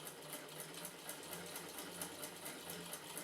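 A vintage Singer 15K sewing machine running smoothly, a steady rhythmic needle clatter with a soft motor hum, close and continuous with no talking.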